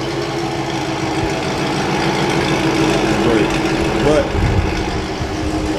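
A C5 Corvette exhaust fitted with Speed Engineering longtube headers, X-pipe and Corsa Extreme mufflers idles with a steady, deep rumble close by, a voice speaking briefly over it.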